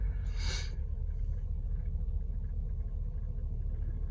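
A Chevy Silverado pickup engine with low oil pressure runs as a deep, steady rumble, close and loud throughout, with a short hissing burst near the start and no clear rise in revs.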